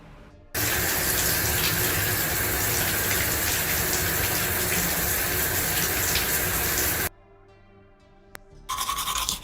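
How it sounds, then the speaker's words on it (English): Shower water pours in a steady, loud, broadband gush that runs for several seconds, then cuts off. A quieter tap-like trickle and a brief click follow, and the flow resumes near the end. "Took a shower."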